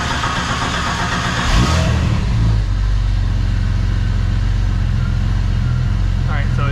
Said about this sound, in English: when you go to start your engine